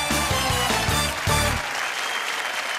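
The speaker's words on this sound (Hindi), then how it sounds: "जोरदार तालियां।" A studio audience at a televised family quiz game show breaks into loud, dense applause that fills the first moment and then thins out into scattered clapping and room noise.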